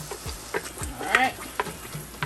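Jamaican beef patty filling frying in grapeseed oil in a pan, stirred with irregular scraping and clinking strokes over a continuous sizzle, close and fairly loud.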